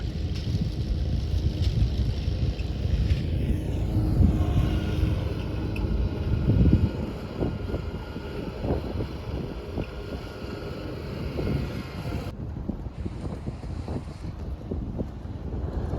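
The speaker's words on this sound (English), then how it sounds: "I know the wind is bad right now" Strong gusty wind blowing outdoors under dark, stormy clouds, a steady rushing roar with buffeting low-frequency microphone rumble that swells and eases throughout.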